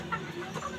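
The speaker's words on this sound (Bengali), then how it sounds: "আপনাদেরকে দেখাচ্ছি আমি আমার খামারের দেশি মুরগি।" Native deshi chickens, about three months old, cluck softly on a rooftop farm, a couple of short faint clucks close by.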